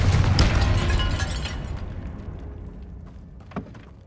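A Confringo fire spell bursts in the Hogwarts Legacy video game, opening with a loud, dense blast that rolls off into a decaying rumble, followed by a smaller thud near the end.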